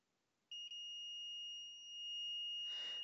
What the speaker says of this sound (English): A beep from the multimeter means we have a short across this cap.